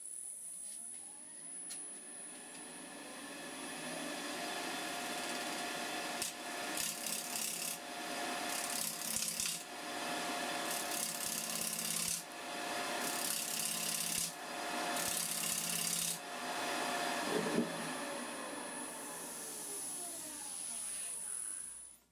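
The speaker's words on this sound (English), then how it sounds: "I'm going to give this a good sanding down a bit" Steady rasping strokes of sandpaper rubbing against wood by hand during wood turning, in repeated bursts of back-and-forth scraping, close and fairly loud.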